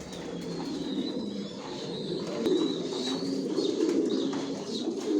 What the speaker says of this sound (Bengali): কোয়ালিটি সম্পূর্ণ কবুতর পালি।